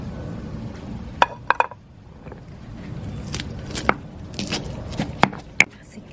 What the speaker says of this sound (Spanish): ahora vamos a moler los ajos, los cominos y la pimienta